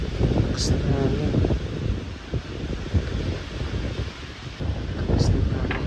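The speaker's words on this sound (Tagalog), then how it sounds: "Lakas pa ng hangin." Strong wind in a rainy night storm around a hut during Typhoon Uwan, a constant loud rumbling roar with gusty buffeting on the microphone, while someone talks over it.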